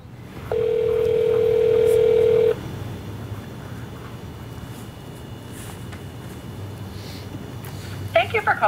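A telephone dial tone sounds loud and steady for about two seconds, then cuts off, leaving quiet room noise with faint clicks near the end.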